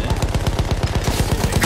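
Rapid, evenly spaced gunfire from a Martini-Henry rifle in the World War I shooter Battlefield 1, loud and dense with close repeated bursts for nearly two seconds and no talk over it.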